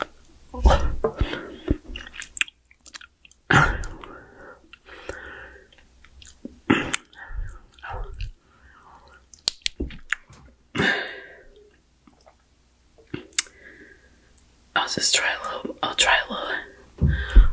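Raw honeycomb from a bee hive being chewed close to the mic in ASMR style, with sticky wet bites and mouth sounds coming in bursts between soft whispering.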